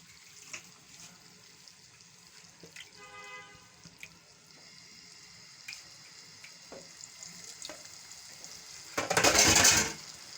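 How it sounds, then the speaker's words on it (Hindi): Water pours in a short, loud rush near the end into frying masala for nalli biryani, following quiet kitchen clatter and faint sizzling. "और अब हम इसमें मिलाते हैं थोड़ा सा पानी।"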